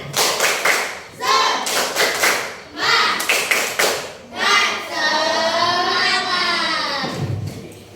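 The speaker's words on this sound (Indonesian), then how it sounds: "Coba tepuk semangat dulu. Tepuk semangat." Schoolchildren in a classroom perform the tepuk semangat chant, bursts of rhythmic group clapping alternating with loud chanted words, ending in a long shouted call.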